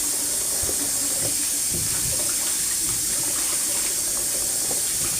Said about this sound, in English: Open up your leaves and wash them.